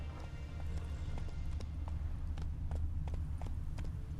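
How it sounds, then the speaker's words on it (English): Hooves of a horse galloping in The Witcher 3 video game, a regular fast clip-clop of close hoofbeats over a low steady rumble, with no talking. "Whoa there, Roach."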